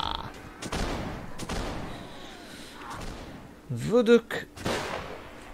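Scattered video game gunfire from a musket-era battle in Warsword Conquest, a few distant muffled shots spaced apart amid ambient battlefield noise, with a brief voice and a shout near the end.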